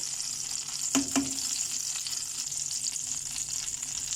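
White cumin seeds and asafoetida dropped into hot oil for rajma, giving a steady bright sizzle with two quick clinks near the start.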